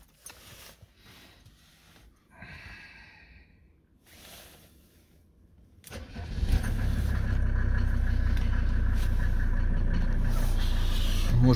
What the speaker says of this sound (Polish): Odpalimy z auto.